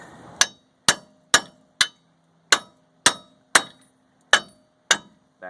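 Nine sharp metallic hammer blows striking a socket during knuckle thread repair on a K1500 truck, spaced at a fairly even rhythm with a brief pause midway, each ringing out loud and close with no talk.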